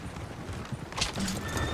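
Horse in Red Dead Redemption 2, with hooves clip-clopping at moderate volume over a busy game soundscape and a brief whinny-like cry near the end.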